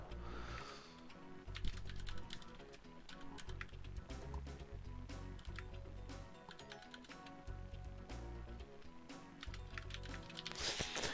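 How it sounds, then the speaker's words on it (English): Steady, close computer-keyboard typing, a dense run of light key clicks and clacks continuing for several seconds over a soft background music bed, no talking. "I'm not even typing that hard either, but I know the mic's picking it up"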